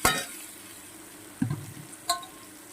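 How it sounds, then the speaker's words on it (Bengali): Fried drumstick pieces and potatoes added to a thick spice masala for a small tangra fish curry: a brief sizzle at the start, then two soft, close clunks as the pieces drop into the hot pan. "এই পর্যায়ে আমি দিয়ে দেব ভেজে রাখা সজনের ডাটা আর আলুটা"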